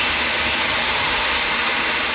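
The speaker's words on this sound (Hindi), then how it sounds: "अपने तय समय पर AI 2379 रनवे छोड़कर टेक ऑफ करती है।" An Air India jet airliner, flight AI 2379, taking off from the runway bound for Delhi, with a loud, dense, continuous jet engine roar that stays steady and close throughout.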